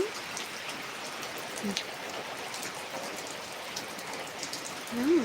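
Rain patters softly and steadily on a surface, fairly quiet, with a couple of brief faint vocal sounds over it.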